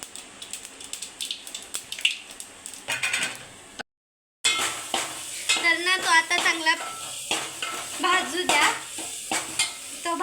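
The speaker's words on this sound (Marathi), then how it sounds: "एका टोपात टाका तेल ते चांगलं गरम होऊ द्या आणि मग त्यात टाका मोहरी" Mustard seeds sizzle and crackle in hot oil in a pot for potato patties, a busy close frying hiss with scattered pops and stirring clatter, briefly cut to silence before resuming louder.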